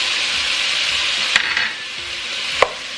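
Ground beef browning in a pot, a steady close sizzle with a couple of sharp utensil knocks against the pot.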